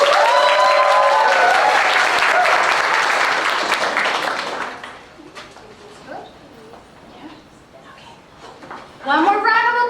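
Applause at a summer youth camp showcase, a broad crowd clatter filling the first half and then fading, with high cooing bird calls and whistle-like tones over it and a short burst of voices near the end.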